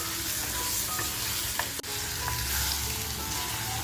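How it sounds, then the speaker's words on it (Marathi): Prawns fry on a full flame for a lasuni palak dish, a steady close sizzle with occasional scraping stirs and one sharp utensil click. "फुल फ्लेमवरतीच आपण छान अशी 2 ते 3 मिनटं परतवून घेऊया, म्हणजे फ्राय करून घेऊया."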